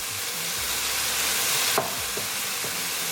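Chinese gourd sabji sizzling in a pan over medium heat, a loud constant hiss with a spoon scraping and stirring through it now and then.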